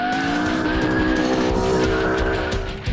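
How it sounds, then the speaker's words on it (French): A Ford Mustang launches hard, a loud roaring engine with rising whining pitch and screeching tyres sustained throughout, heard close and without talk. "On entend le moteur qui rugit"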